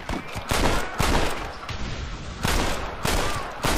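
Revolver shots in the Red Dead Redemption video game crack out loud and close in an uneven series of about six sharp bangs, each trailing a short echo, during a free-for-all shootout in Armadillo.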